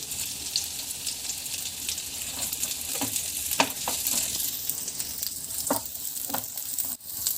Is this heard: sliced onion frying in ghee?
yes